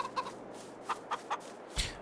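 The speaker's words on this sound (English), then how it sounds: "Let's teleport over to the other chicken coop." A few short, soft clucks come from chickens in a coop in the farming game Farming Simulator 22. The scattered chirps are faint and sit over quiet background ambience, ending with a slightly fuller cluck.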